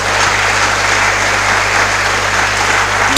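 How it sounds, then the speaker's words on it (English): Audience at a college engineering freshman orientation applauding, a loud, dense and even wash of clapping that continues steadily to the end. "Please clap for him."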